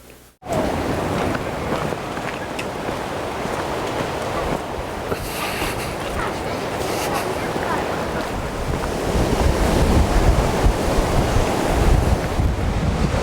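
Surf and wind on the open beach where Marconi sent the first radio signal across the sea, a steady full roar of breaking waves with gusting wind buffeting the microphone, growing louder toward the end.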